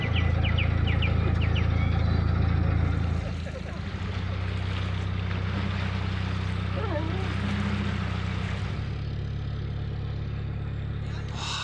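A narrowboat with a faulty alternator reverses toward its canal mooring, a low steady engine drone running throughout, louder at first then settling, with faint birdsong and soft background noise above it.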